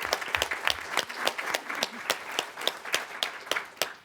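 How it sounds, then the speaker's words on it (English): Applause from an audience at a panel talk on rising maternal mortality in the United States, a modest crowd clapping in distinct, somewhat sparse claps that stay fairly close and even. "Let's have a round of applause."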